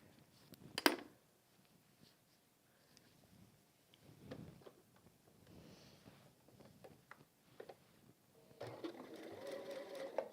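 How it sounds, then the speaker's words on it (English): Sewing machine stitching velvet fabric, quiet and close: short bursts of soft mechanical whirring and clicking separated by pauses, ending in a longer steady run of stitching. "we're going to sew down the other side."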